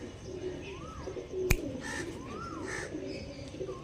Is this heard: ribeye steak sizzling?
no